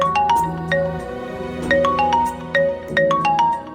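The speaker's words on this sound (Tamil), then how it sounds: "பெரிய ஃபோன் பண்றாரு. எடுத்து பேசுங்க" A mobile phone plays a melodic ringtone for an incoming call, with repeating bright chiming notes over a looping backing tune, loud and close with no talking.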